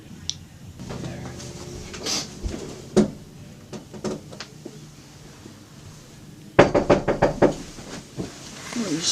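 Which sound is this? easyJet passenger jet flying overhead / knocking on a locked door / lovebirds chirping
knocking on a locked door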